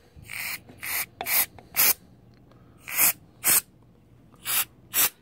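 Brake cleaner sprayed onto a GY6 scooter crankcase in eight short, loud hissing bursts, each about a third of a second, separated by brief pauses, with no talking.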